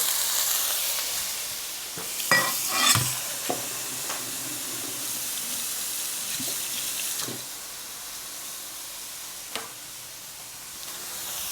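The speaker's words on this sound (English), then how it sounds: "Add some oil. So we're gonna add in our shrimp." Shrimp frying in hot oil in a pan for a surf and turf dinner: a steady, close sizzle with a few sharp clinks and stirring bursts early on, then an even hiss with no one speaking.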